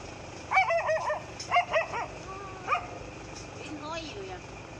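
A dog barks at a king cobra with several quick, sharp barks in two bursts at moderate distance, followed by fainter yelps, all set against a faint outdoor background.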